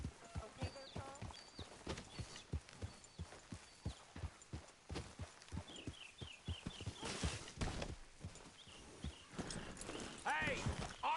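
Horse hooves clip-clop steadily at a walking pace in Red Dead Redemption 2, with occasional snorts and background music, while characters talk over the rhythmic hoofbeats.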